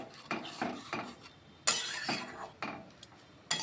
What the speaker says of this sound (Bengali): ভালোভাবে মিশিয়ে নিচ্ছি।